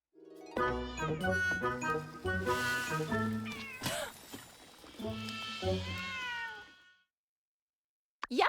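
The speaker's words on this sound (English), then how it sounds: "Stupid cat, get out of here!" A cat meows repeatedly in the life-sim video game My Time at Sandrock, a run of close, insistent mewing and longer drawn-out cries with a faint jingle, then silence before a brief sound at the end.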